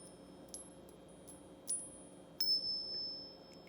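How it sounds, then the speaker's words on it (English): Small bells ring out in sparse, delicate dings, a few bright chimes lingering softly over quiet background. "Little healing bells and chimes."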